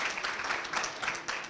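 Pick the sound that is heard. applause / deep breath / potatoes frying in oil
applause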